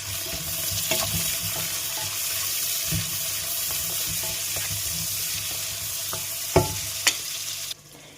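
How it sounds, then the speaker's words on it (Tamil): Small onions sizzle gently in a pan for egg curry, a steady frying hiss with occasional soft clinks and stirring sounds, close by and without talk. "இப்போ இது கொஞ்ச நேரம் வதங்கட்டும்."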